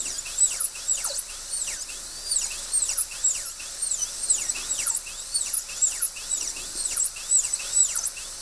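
A dental handpiece grinds across the occlusal surface of a typodont tooth in short, repeated high-pitched whining bursts, each rising and falling as small amounts are reduced at a time.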